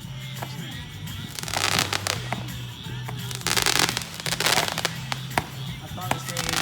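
A backyard July 4th fireworks display in Fort Myers, Florida bursts loudly and continuously, with crackling pops and booms piling up over several seconds while people talk nearby.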